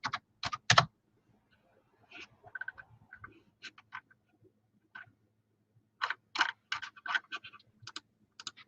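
Typing on a computer keyboard up close, quick irregular clusters of crisp key clicks separated by short silent pauses, quiet and alone with no speech.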